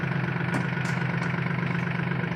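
A steady, low engine idling close by, a constant rumble with a faint high whine above it and no voices.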